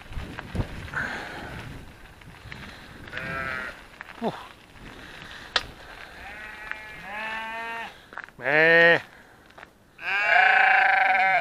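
Sheep bleat close by during a mountain bike outing. Soft rustling comes first, then several loud, wavering bleats near the end. A voice speaks briefly.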